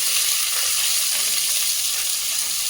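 Chopped onions sizzling in a pan of hot oil with fennel seeds while cooking tomato rice, an even, crackling hiss heard up close and alone.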